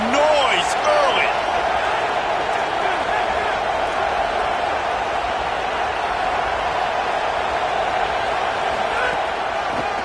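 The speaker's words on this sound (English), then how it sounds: "This crowd bringing the energy and noise early." A football game crowd in an Indiana stadium roars steadily for the full stretch, a dense, continuous wash of distant voices and cheering with a few faint sharp knocks near the start.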